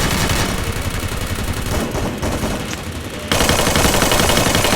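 Rapid automatic gunfire in the battle royale game Free Fire rattles loud and dense, briefly thinning in the middle before resuming at full intensity.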